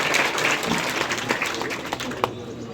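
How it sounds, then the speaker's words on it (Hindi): Audience at a BJP gathering honouring Sant Ravidas claps loudly to welcome state president VD Sharma, a dense burst of applause that holds steady for a few seconds. "एक बार जोरदार ताली बजा के उनको"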